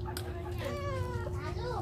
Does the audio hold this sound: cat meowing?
yes